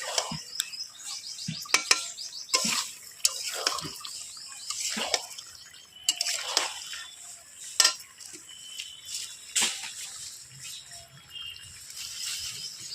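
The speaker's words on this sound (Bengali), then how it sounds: "সমস্ত চিকেন আর আলুগুলোকে মশলার সাথে ভালো করে একটু কষাবে।" A spoon stirs fried chicken and potatoes with spices in a pan, with sporadic metallic clinks and scrapes at an uneven rhythm and a quiet sizzle underneath. No one speaks.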